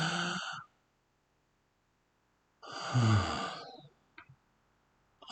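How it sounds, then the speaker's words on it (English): A single deep breath, a loud drawn inhale and breathy exhale around a calm pause, heard close with no talking, taken before a handwriting practice stroke of uppercase letters. "big deep breath"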